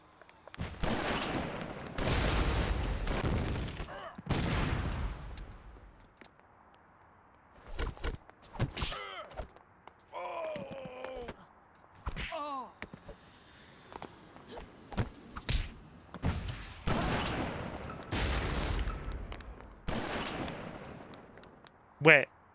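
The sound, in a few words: gunfire and explosion in the video game Oni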